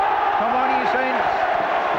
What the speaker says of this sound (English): Roar the crowd